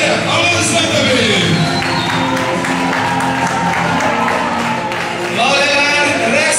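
Audience at a Georgia–Azerbaijan cultural bridge concert applauds and cheers loudly, a sustained roar of clapping with a voice speaking over it, swelling again near the end.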